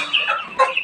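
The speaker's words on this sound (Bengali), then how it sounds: "ডিম পাড়া মুরগিটা" An egg-laying hen gives two short, close clucks in quick succession, loud and alone.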